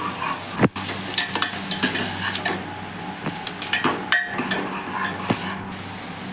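Chopped onions fry and sizzle in a pan, cooked gently until light pink for a dry potato, tomato and capsicum curry. A steady sizzle runs throughout, with scraping stirs and a few sharp utensil knocks, and no voices.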